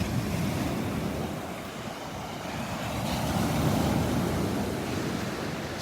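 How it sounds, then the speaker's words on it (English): Ocean waves breaking on a sandbar at a beach in pre-dawn darkness, a continuous loud roaring wash of surf with wind noise across the microphone, no voices. "The waves breaking on the sandbar."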